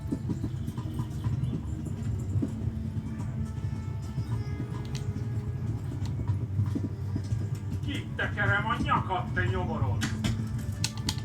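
Horse hooves galloping in the medieval video game Kingdom Come: Deliverance, a steady rapid clopping rhythm that runs throughout at moderate level, with other game sounds and a brief call layered over it toward the end.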